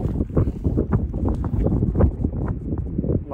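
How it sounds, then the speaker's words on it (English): Gusty wind on a mountain ridge in Snowdonia buffets the microphone in rough, low rumbling bursts, loud and close, with no talking. "excuse the wind, because it's quite windy."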